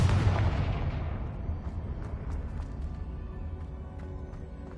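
A Confringo blasting spell goes off in the Hogwarts Legacy video game, a loud booming explosion with a deep rumble that slowly fades into crackling debris and scattered small pops. No one speaks.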